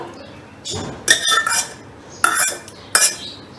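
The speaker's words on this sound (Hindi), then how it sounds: "अब हम इसमें इसको मिला देंगे मैंगो में, कुल्फ़ी का दूध जो तैयार किया था" Prepared kulfi milk stirred into mango with a spoon, producing bright metallic clinks and scrapes against the bowl in several close, uneven bursts separated by short pauses.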